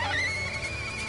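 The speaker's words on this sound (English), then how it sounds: "That's some weird goat sheep looking thing." Alien goat-sheep creature on a planet in No Man's Sky gives a short, loud, whinny-like call with a wavering tonal pitch, heard alone over steady game ambience.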